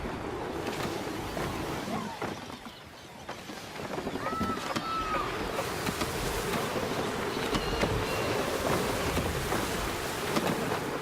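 Sailing ship running at full sail across open sea in Assassin's Creed III, with steady wind and water wash, rushing spray and scattered creaks filling the scene continuously, faint voices occasionally over it.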